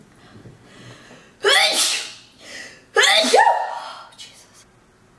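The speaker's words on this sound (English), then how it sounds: "Oh god, I gotta sneeze." Two loud, close sneezes burst out a second or so apart during a makeup session, each preceded by a short breathy inhale, with a brief exclamation at the start.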